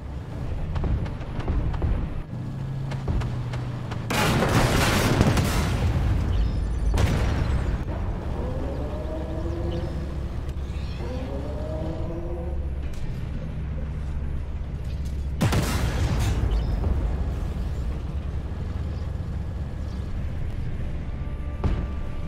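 Tank cannon shots and explosions in the video game Armored Warfare, with an Armata T14 152: a few heavy booming blasts spaced several seconds apart over a constant engine rumble, with mechanical whirring between shots.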